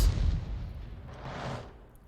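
An artillery gun firing a blind shot in a tank video game, a deep booming blast that rolls out into a long rumbling decay.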